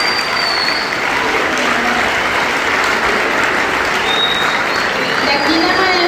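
A school audience at a secondary school talent show gives a strong, continuous round of applause: dense, steady clapping that fills the room from start to finish.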